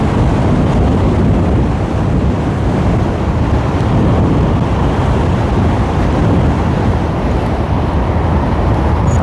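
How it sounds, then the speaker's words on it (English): Heavy, steady wind roar buffets the microphone nonstop while riding a Maxfun 10 MAX budget electric hyper scooter at top speed, a loud broadband rush with no pauses and no talk. "it's super windy today, really strong wind"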